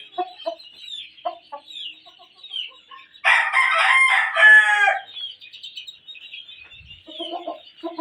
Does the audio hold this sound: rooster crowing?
yes